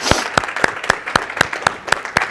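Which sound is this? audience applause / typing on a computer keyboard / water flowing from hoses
audience applause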